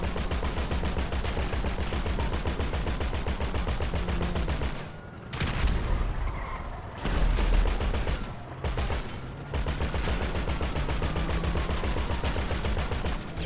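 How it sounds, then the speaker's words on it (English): Sustained bursts of rapid video game gunfire, loud and dense, with brief pauses and heavier blasts midway through. "Just a madman with a gun tonight."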